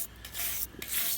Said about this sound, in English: So let me continue scrubbing this